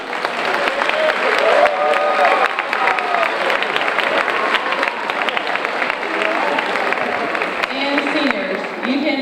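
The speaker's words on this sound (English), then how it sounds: "give the seniors one big more round of applause" Audience applause for graduating seniors at a school Decision Day assembly, steady clapping across the whole stretch with crowd murmur, cheers and voices mixed in.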